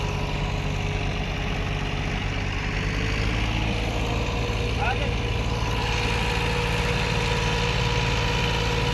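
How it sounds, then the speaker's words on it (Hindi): A Sonalika 745 tractor engine idles steadily, stuck in water, a continuous low rumble with a steady hum running through the whole stretch. "ये ट्रैक्टर इधर फंस गया है।"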